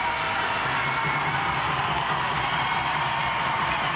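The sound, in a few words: ice hockey crowd cheering for Sheffield Steelers' Spencer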